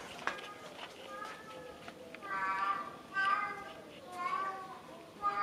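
An impatient cat meows repeatedly during a home cat-tree building project, making several drawn-out, rising cries in close succession, fairly near and clear over a quiet room.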